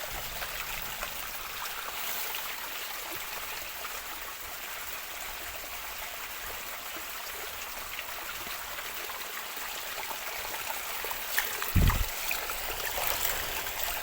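A river flows beside a forest campsite during a solo overnight hike, a steady, quiet wash of running water throughout, with a brief low thump near the end.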